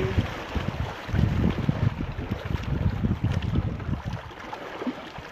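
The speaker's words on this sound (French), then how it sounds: "je vous laisse aussi écouter le bruit des vagues" Sea waves wash in with a rough, continuous rushing roar that surges and churns up close, mixed with wind buffeting the microphone, and no voices.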